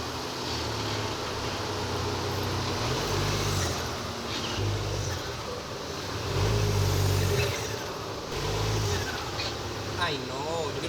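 A car engine with a loose turbo part revs and idles close by, rising and falling in surges over a rough, rattly drone while people talk over it.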